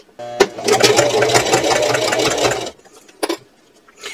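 Sewing machine running a long continuous seam on a purse at a quarter-inch allowance, a steady close mechanical whir for over two seconds before stopping, followed by a couple of brief handling knocks.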